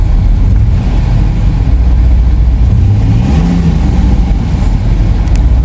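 A 2004 Town and Country van engine drones loudly up close, its pitch rising and falling once in a smooth rev midway before settling back.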